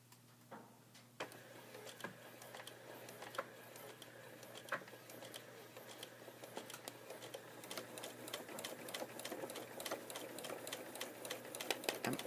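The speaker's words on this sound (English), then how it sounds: "I'm gonna hold my threads. And I'm gonna start sewing." Sewing machine stitching an invisible zipper onto a center back seam, a steady fast run of needle ticks with a motor hum throughout, close and alone without speech.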